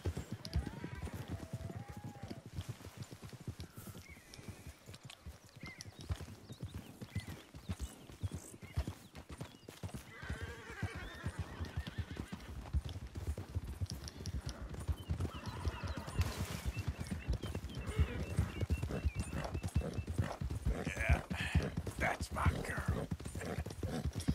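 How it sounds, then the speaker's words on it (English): Horse hooves clip-clop steadily throughout in Red Dead Redemption 2, mixed with game-style ambience, occasional whinnies and a voice talking over parts of it. "that's a pretty horse"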